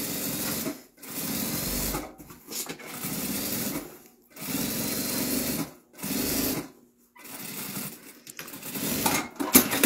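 Sewing machine reinforcing a seam on a bambino garment, running in several loud sustained bursts of rapid stitching separated by short silent pauses, close up with no talk.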